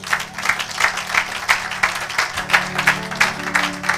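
Church congregation applauding in praise during a sermon, steady rhythmic clapping from many hands over sustained organ or keyboard chords, loud and continuous.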